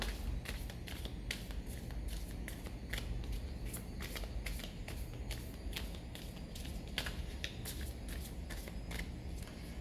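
Tarot cards are shuffled in a quick, continuous run of soft riffling flicks, faint and close, with no speech.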